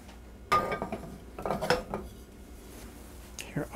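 Pasta and shrimp scampi are dished onto a plate at home, with metal utensils clinking and scraping against dishes in a few brief clatters and a softer pause between.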